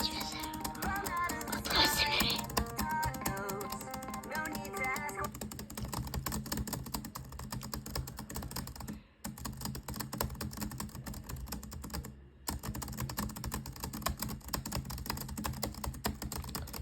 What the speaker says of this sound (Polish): Zobaczcie te kliknięcia.